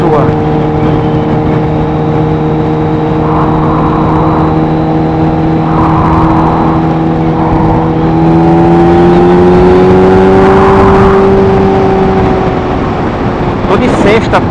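Kawasaki H2 motorcycle accelerating on a test ride, a loud, steady engine drone whose pitch climbs and swells midway, then eases back, heard up close with wind rush throughout.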